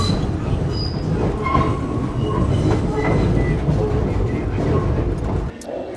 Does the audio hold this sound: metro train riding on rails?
yes